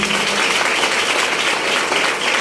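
A congregation at a church gathering gives loud, sustained applause, a dense steady wash of many hands clapping together for the full couple of seconds.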